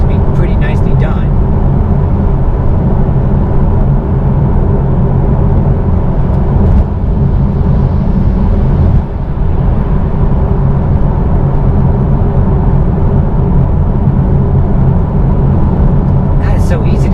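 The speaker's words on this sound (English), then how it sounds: "You can hear the road noise too, see? Hear that truck?" Steady broadband road and tire rumble fills the cabin of a 2018 Tesla Model 3 Performance at speed, loud and continuous, with a brief swell and dip near the middle as a truck passes close by; no talking.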